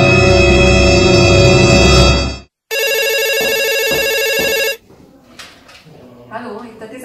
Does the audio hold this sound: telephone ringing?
yes